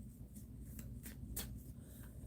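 Playing cards are shuffled by hand for a card reading, giving faint, close riffling and soft paper brushes in several short bursts over a low hum, with no talking.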